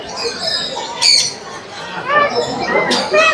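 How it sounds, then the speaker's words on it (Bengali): Many caged birds squawk and screech in sharp bursts at a livestock exhibition, over a noisy, crowded background of chatter-like calls. "এই প্রচুর পাখি আছে এখানে"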